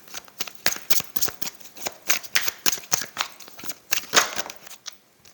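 Tarot cards are shuffled by hand up close, giving a quick run of crisp riffling flicks and soft slaps in an uneven rhythm, with no voices.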